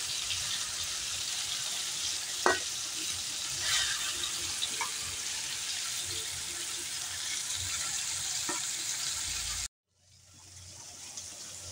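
Onions fry in oil in a pan, a steady loud hiss running for several seconds with a few sharp clinks before cutting out abruptly, then the hiss returning.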